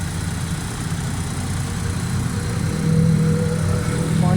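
A 2016 Suzuki Mehran Euro with a head pressure and pickup fault idles nearby in a steady low rumble, its revs lifting slightly partway through.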